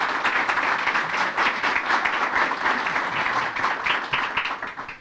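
An audience bursts into sustained applause, dense overlapping clapping from many hands that holds steady for several seconds before tapering slightly at the end.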